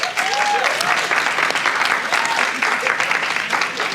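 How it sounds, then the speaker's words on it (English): Loud, sustained applause from an audience at a college speech, dense steady clapping that fills the room, with a brief voice rising above it near the start. "Round of applause."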